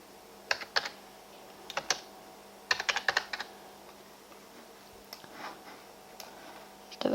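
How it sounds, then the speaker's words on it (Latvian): Keys clacking on a computer keyboard while text is typed into a Photoshop text box, quiet bursts of several quick taps separated by pauses, close and alone. "Un rakstam vienkārši iekšā."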